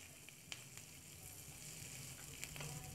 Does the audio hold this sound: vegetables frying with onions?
yes